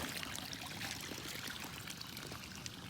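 Water pours and splashes steadily from a pig drinker on a farm, a continuous close trickling stream with no voices.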